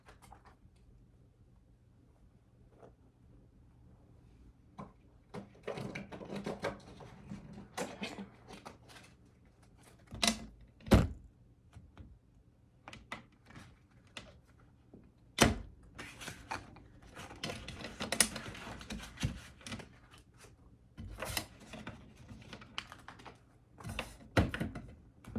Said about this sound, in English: I have to shuffle these on the floor because they're really slippery.